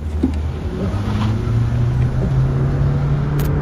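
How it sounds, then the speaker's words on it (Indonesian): A Toyota Prius hybrid with the M20 FXS engine accelerates with a steady low hum and a rising tonal whine. The sound is close and fairly loud, with no talking over it. "Toyota Prius ini menggunakan mesin M20 FXS"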